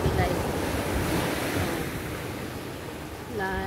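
Ocean surf at La Puntilla beach in El Salvador rolls as a steady broadband wash under wind noise on the microphone, loud and continuous, with a brief tonal sound entering near the end.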